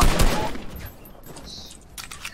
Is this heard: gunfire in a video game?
yes